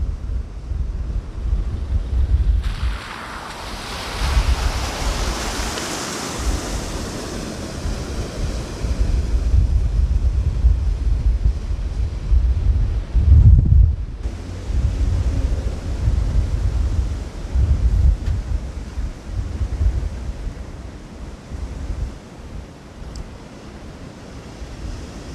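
Storm Henk gale gusting over floodwater where the River Wid crosses near Ingatestone, Essex: continuous loud wind roar buffeting the microphone, rising and falling in gusts with a sharp thump midway, no talking.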